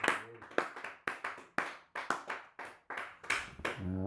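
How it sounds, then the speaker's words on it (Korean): Church congregation applause during a Korean worship service, faint, with distinct handclaps repeating in an uneven rhythm, heard from a distance. "우리 하나님 앞에 감사와 영광의 박수를 한번 드리기 바랍니다"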